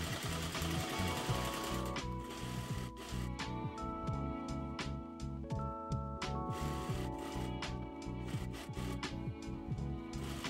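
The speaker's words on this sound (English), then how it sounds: "just sew a stitch around the inner perimeter of the hat brim, close to the edge, catching the straps as you sew" A sewing machine stitches around the inner edge of a fabric sun hat brim, its needle chattering in close, rapid, rhythmic bursts with brief pauses between runs; no talking.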